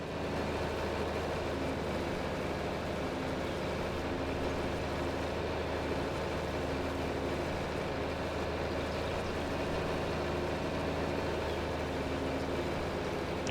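In Farming Simulator 25, a tractor engine drones on without pause in a low, even rumble, steady and unchanging, with no talk over it.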